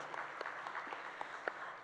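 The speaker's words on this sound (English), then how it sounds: "we're going to ask for an entire round of applause for all of the awards" Brief, faint applause at an awards gala dinner, a thin scatter of distinct claps from a moderately sized audience.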